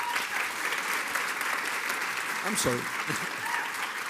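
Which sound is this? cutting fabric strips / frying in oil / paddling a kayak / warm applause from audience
warm applause from audience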